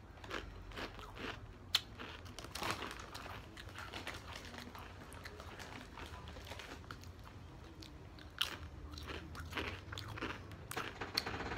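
Lay's crisps flavoured with tulum cheese and olive being crunched and chewed close to the mouth, with irregular crisp bites and crackles repeating over steady chewing, without talk.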